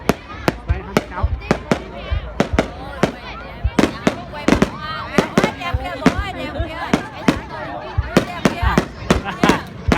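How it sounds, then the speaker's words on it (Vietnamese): New Year fireworks display for spring Giap Thin 2024 in Que Vo town, Bac Ninh: a rapid, irregular barrage of sharp loud bangs and crackles over a dense crowd murmur, with voices talking throughout. "Cả nhà đi xem pháo hoa đây."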